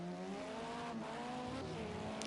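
An LMP2 prototype race car in a sim racing game at the Circuit of the Americas revs near its limit in sixth gear, then brakes hard and downshifts toward first, a steady engine whine with a faint tyre scrub.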